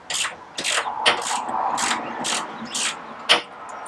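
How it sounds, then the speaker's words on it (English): A 10mm socket ratchet loosening a nut on the engine lid of a classic Fiat 500, heard as a series of close, crisp clicking bursts in an uneven rhythm with brief pauses between strokes, and no talking. "we've got a 10mm socket. So we'll put it into reverse and just thread that on, and then carefully remove it."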